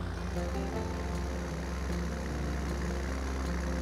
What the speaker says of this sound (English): Those engine sounds are nice.